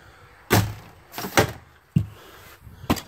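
The screen door of a 2017 Puma XLE 30DBSC travel trailer opens and closes, giving four separate rattling bangs and thuds spaced about half a second to a second apart, close and fairly loud.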